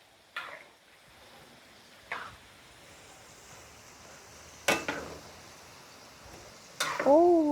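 Quiet, intermittent sizzling of banana chips frying in a hot pan, with a few sharp clicks and scrapes and a brief high squeak near the end.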